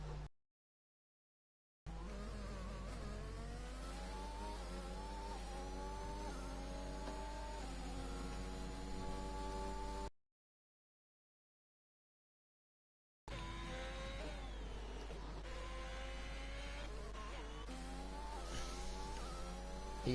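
Race cars in an Austrian Grand Prix round of a racing video game, one closing on an Alpine to catch its slipstream, engines whining and shifting pitch steadily in two stretches broken by a silent gap.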